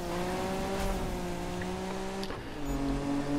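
Nissan Fairlady 240 ZG from 1971 racing in Need for Speed, its engine droning steadily at high revs with a tonal whine, briefly dipping then climbing again as it accelerates, loud and continuous with no talking.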